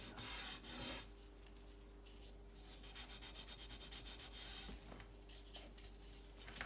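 Rhythmic back-and-forth scraping of sandpaper on a vintage aluminium bicycle part, close and quiet, with brief pauses between strokes.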